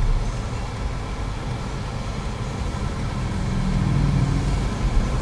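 A 2009 Hyundai Accent GLS with a 1.6 liter engine and automatic gearbox accelerates. A steady, dense engine drone heard from inside the car swells slightly louder toward the end. No one speaks.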